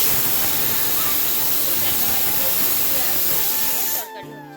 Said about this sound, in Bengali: প্রেশারে সিটি পড়ছে বুঝতেই পারছো